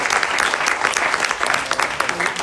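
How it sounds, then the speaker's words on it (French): An audience at a youth job-search seminar claps continuously, a dense, loud burst of applause from a crowd filling the room, with no talk heard over it. "applaudissez pour lui."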